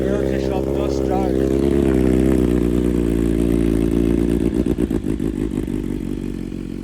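A BMW motorcycle engine starts and settles into a loud, steady idle close by, its rumble turning choppier and pulsing toward the end with light clatter.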